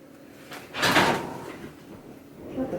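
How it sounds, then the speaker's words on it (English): A desk drawer left not fully closed slides open by itself, a single short scraping rumble swelling and fading within about a second in a quiet room, with a faint knock afterward. "My drawer opening. Because I didn't close it all the way."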